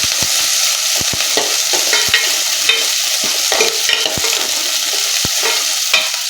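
Chopped onions and garlic sizzle steadily in hot oil in a pan for a lentil and goat trotter curry, with repeated sharp scrapes and clicks of a spoon stirring close by.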